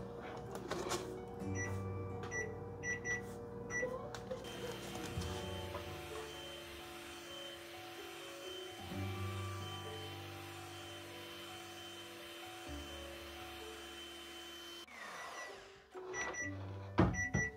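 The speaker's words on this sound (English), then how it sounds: "And then you'll wanna mix it again for 1 minute." An electric mixer whirs steadily while blending homemade sheep milk lotion with lavender essential oil, its motor pitch shifting for a while before cutting out near the end amid a few handling knocks.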